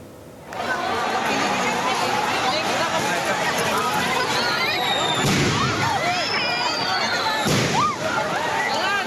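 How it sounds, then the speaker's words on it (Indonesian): Firecrackers thrown by angry student protesters at guarding police outside the West Java provincial DPRD office, cracking in sharp bursts amid constant loud crowd chatter, shouts and whistles throughout. "Massa aksi yang mulai kesal melemparkan petasan ke arah polisi yang tengah berjaga."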